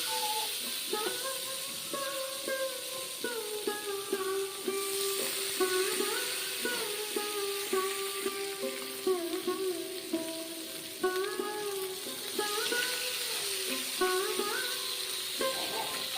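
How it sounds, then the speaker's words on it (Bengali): Mourola fish frying in hot oil in a pan, a soft steady sizzle running under a prominent tonal melody. "তো তেলটা দেওয়ার পর, তেলটা গরম হওয়ার পর এতে মাছগুলো দিয়ে দেবো।"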